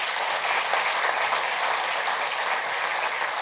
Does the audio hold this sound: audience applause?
yes